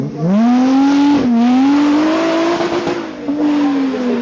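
An Ariel Nomad with a rear-mounted 2.4-litre Honda VTEC engine revs hard and accelerates close by, its loud rising engine note climbing through gear changes with brief dips between pulls, no talk over it.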